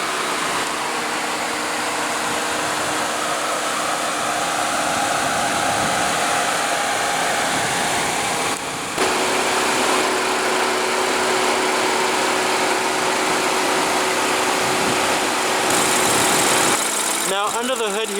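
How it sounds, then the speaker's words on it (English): A 2016 BMW 4 Series convertible's 2.0-liter turbocharged inline four-cylinder engine idles steadily with a constant hum throughout, a voice talking over it. "now under the hood here we have a 2-liter turbocharged inline 4-cylinder that produces 240 horsepower"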